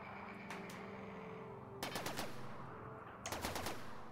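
Automatic gunfire in the RimWorld video game crackles in two quick bursts of rapid shots, preceded by a couple of faint single pops, with no talking.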